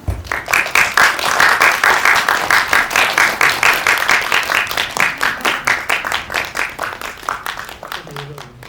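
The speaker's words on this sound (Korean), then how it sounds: "따뜻한 박수로 맞아주시기 바랍니다" An audience at a Korean film press screening and press conference for 'Ganchep Sanyang' applauds as the director, producer and actors are brought to their seats, with a sustained, even burst of clapping that slowly fades.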